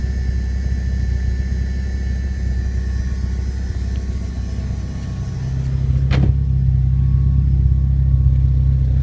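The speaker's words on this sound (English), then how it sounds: "I actually think it idles better on the stock ECU than the VIPEC." A 2007 Subaru STI running on its stock ECU idles nearby with a steady low rumble. Partway through there is a sharp click, and after it the hum settles slightly lower and heavier.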